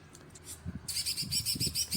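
Bright, rapid chirps of a green leafbird (cucak ijo) in breeding condition repeat in quick bursts after a quieter start, close and clear with faint low noise beneath.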